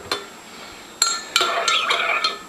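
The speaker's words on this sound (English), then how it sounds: "I'm going to stir it up" A spoon clinks against a glass of iced coffee mocha in a few sharp taps, then a quicker run of ringing stirring chimes, close and bright with no talking.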